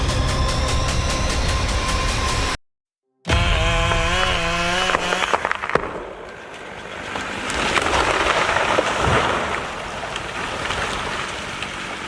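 An automatic firewood processor with a big chainsaw bar cutting logs: loud steady engine roar and a whining saw pass, a brief cut-off, then rising and falling cutting noise with machinery clatter, no talk.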